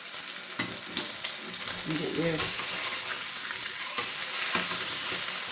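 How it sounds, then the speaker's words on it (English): A steak sears in a hot pan, a continuous close sizzle with several sharp knocks and scrapes as it is turned with a fish slice, and one brief word spoken. "Right, we're ready to flip this steak now."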